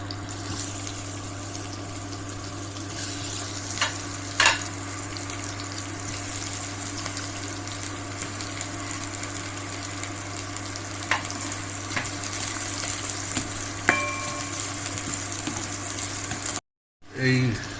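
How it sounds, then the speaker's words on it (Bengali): Onion frying in oil in a pan, a steady continuous sizzle with a low background hum, a few clinks of utensils stirring throughout, ending with a brief pause. "পেঁয়াজটা ভাজা হবে।"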